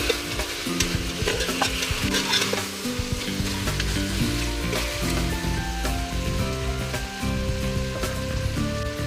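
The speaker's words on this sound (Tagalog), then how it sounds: "Narinig ko nang nagmamantika na" Pork hock (pata ng baboy) fries in oil in a pan, giving a dense, steady sizzle and crackle with occasional stirring scrapes; close and continuous, with no talking.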